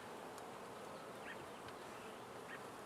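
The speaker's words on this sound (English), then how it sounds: "This bee is flying around my head, isn't happy with me." A honey bee buzzing around a beekeeper's head near the hive, a faint continuous drone that swells briefly as it passes close, over quiet outdoor background.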